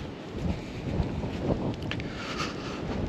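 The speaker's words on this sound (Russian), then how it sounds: "Ветерок, скажу вам, пронизывающий такой." Cold, piercing wind buffets the microphone on a stormy Black Sea beach at Lazarevskoye, a loud continuous roar with low gusting rumbles and a faint wash of rain or surf behind it, no voices.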